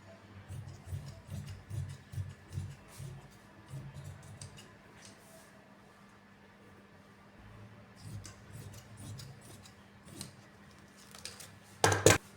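Scissors cut through palazzo fabric in quiet, rhythmic snips that come in two bursts, ending with a louder clatter.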